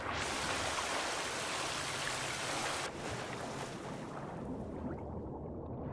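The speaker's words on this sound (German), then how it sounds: "hier muss ich jetzt schwimmen" Swimming through water in The Forest video game gives a continuous rushing wash of water, loud and broad at first, then slightly softer and duller near the end, with no voices.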